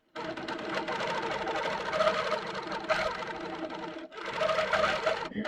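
A longarm quilting machine stitches in steady, rapid mechanical chatter up close, pausing briefly once before resuming at the same pace.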